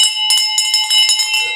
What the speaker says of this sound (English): Bell, you want to ring that?